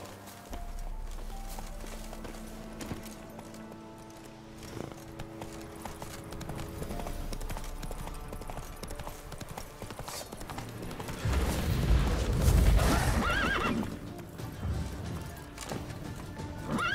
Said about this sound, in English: I like how Roach got all scared and bucked me off, but he still stays in the same spot